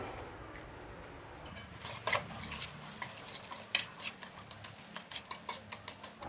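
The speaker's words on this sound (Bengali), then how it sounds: "ডিমটাকে হালকা ভেজে নিয়েছি, এবার তুলে নেবো আমি।" Egg lightly frying in oil and stirred in a pan for Indian mixed fried rice, a faint sizzle under a series of quick metallic scrapes and clinks from a utensil, close and steady.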